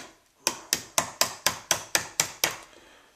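Nine sharp metallic hammer taps drive a roll pin into an M60 machine gun bolt in a quick, even rhythm, each strike ringing briefly before the next, close and clear with no talking.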